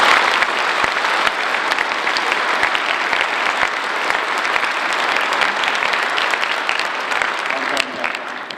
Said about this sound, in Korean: 다시 한번 뜨거운 박수 부탁드립니다